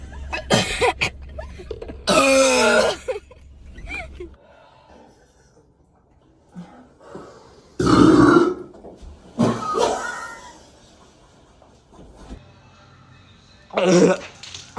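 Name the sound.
burping during Sprite challenge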